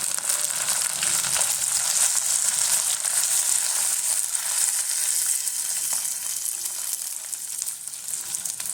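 Beef with coconut pieces and curry leaves frying in a pan for Kerala-style pepper beef fry, a steady close hiss and crackle of sizzling oil with faint stirring scrapes underneath.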